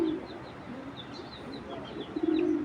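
Aluminium silver pigeon of an old breed cooing in low, throaty bursts at the start and again near the end, with faint chirps from other birds in the background and no speech.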